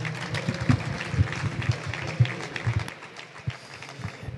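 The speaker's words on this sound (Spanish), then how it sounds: "Un aplauso para él." An audience applauds at a photography event, scattered clapping over a low rhythmic thumping that fades after about three seconds into quieter room noise.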